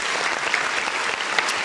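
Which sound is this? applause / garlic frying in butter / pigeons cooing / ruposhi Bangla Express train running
applause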